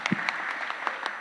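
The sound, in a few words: audience applause at a leadership session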